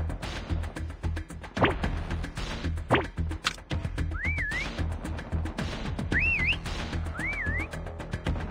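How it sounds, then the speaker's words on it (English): Three short rising-and-falling whistle signals sound in Call of Duty: Mobile's hide-and-seek mode, evenly spaced and fairly clear over busy game ambience with a few sharp thwacks earlier. "Next whistle in 10 seconds."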